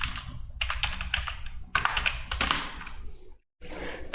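Rapid clicking keystrokes on a computer keyboard while a Tally Prime accounting voucher is being entered, in close bursts with a brief pause near the end.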